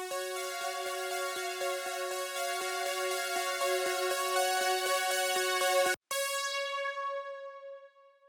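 A bright synthwave synth arpeggio repeats a 3-3-2 eighth-note pattern, its steady plucked notes ringing clearly. A brief dropout interrupts it near the end before the final notes decay into a fading tail, with no voices.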